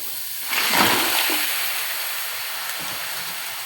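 Crab tipped into a hot pan of sautéed ginger, tomato, onion and lemongrass, a sudden loud whooshing sizzle that settles into a steady hiss.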